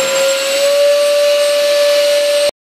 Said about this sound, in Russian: Берем пылесос.